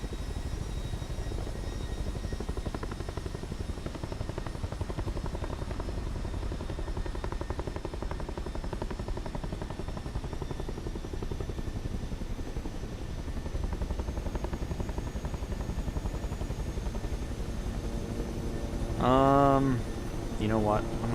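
Helicopter flying in Microsoft Flight Simulator 2024, a steady rotor and engine drone with a rapid low chop throughout, someone talking over it, and a short tonal alert near the end.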